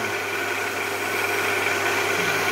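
A lathe runs steadily while an air rifle barrel is sanded on it, giving a continuous, even mechanical hum and whir with no breaks and no talking.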